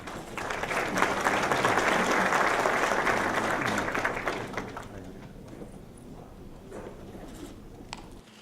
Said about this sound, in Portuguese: Marcos, peço uma salva de palmas para ele.